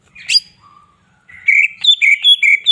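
A green leafbird sings bright, varied chirps and warbles in quick phrases, clear and close, with brief pauses between bursts of whistled notes.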